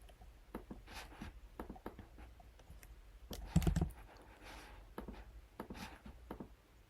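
Fingers tap keys on a computer keyboard while entering an endpoint and token into a script, quiet close clicks in an irregular rhythm with one louder knock midway.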